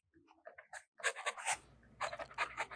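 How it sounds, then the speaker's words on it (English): Fountain pen with a posting nib writing on a reporter pad, giving quiet scratchy strokes in short bursts with brief pauses between them. "The next writing sample is done on a WritePad's reporter pad."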